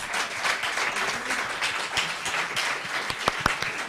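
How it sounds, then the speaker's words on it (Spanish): A lecture audience gives speaker Daniel Bertaux a round of applause, a steady wash of many hands clapping with a few louder, sharper claps near the end. "Un aplauso para Daniel, por favor."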